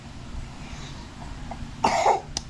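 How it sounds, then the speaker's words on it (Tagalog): A child coughs once or twice near a swimming pool, a short burst standing out against quiet background murmur. "Bakit inuubo yan?"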